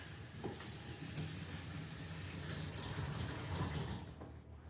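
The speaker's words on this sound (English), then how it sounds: "I'm just gonna fill this up with some water." Tap water runs continuously into a container being filled for cleaning, a steady close rushing hiss that swells slightly before cutting off.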